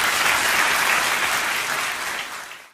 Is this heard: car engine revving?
no